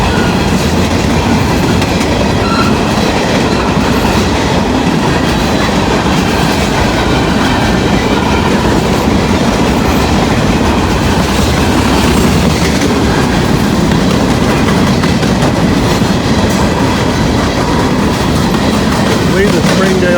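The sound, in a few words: gondola freight train passing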